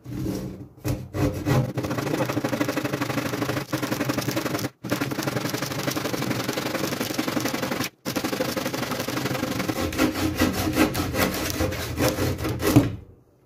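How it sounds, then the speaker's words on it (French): A hand saw cuts a wooden plank in two with steady back-and-forth rasping strokes, close and fairly loud, with two brief pauses before the final strokes finish the cut. "je vais la couper en deux"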